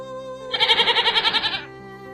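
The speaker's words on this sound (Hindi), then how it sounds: "अरे वाह, कितनी सुंदर बकरी है" A goat bleats in a forest setting: one loud, wavering, pulsing bleat of about a second, heard alone over a steady tonal background.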